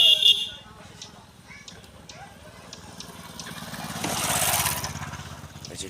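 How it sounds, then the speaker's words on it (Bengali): On a village road in Hajar Bigha, Faridpur, a motorbike engine drones low, swells as it passes nearby around the fourth second, then fades, over faint outdoor background sounds. "একটি বাইক চলে গেল"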